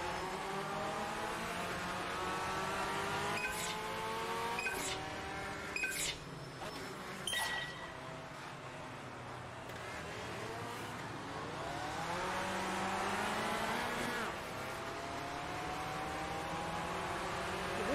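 Race cars in the Automobilista 2 sim, a steady engine drone with rising and falling revs as gears shift, and brief sharper bursts from nearby cars, all at a moderate, even level.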